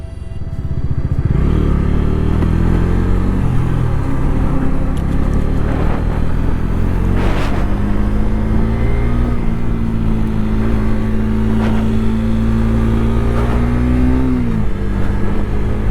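Heavy multi-tyre truck hauling a cannon along a road in Andhra Pradesh, its deep diesel engine droning loud and close for a long stretch with a rising pitch, rattles and a brief clatter, no talk.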